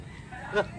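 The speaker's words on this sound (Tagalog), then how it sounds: "Ayun sa baba yung manok." A single short cluck from a chicken rises briefly out of a quiet background, fairly faint and a little distant.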